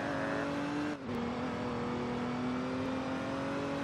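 A car engine drones loud and steady while speeding in a role-play video game, a sustained tonal roar with a brief dip in pitch partway through.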